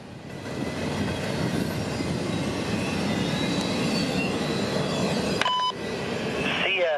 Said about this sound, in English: I-169 goes on duty every morning at CSX's large yard in Port Newark, New Jersey